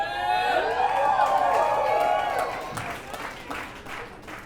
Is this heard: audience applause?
yes